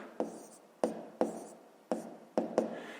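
A pen writes on paper in five or six short, close scratchy strokes, each a quick tap followed by a brief scrape, with faint pauses between them.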